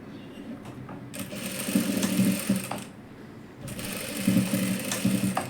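A sewing machine stitches a dress seam in two steady whirring runs, separated by a short pause, with a rapid mechanical needle chatter at close range and no talking.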